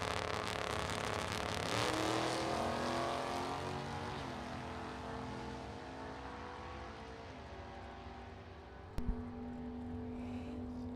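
Drag race pass between a 1971 Chevelle with a 406 small block and a 1961 Corvette: a loud, roaring V8 engine drone with rising revs, slowly fading toward the far end, then a brief sharp thump near the close.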